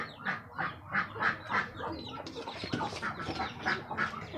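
Ducks quack in a quick, steady series of nasal calls, close by and fairly clear, with a few overlapping calls midway.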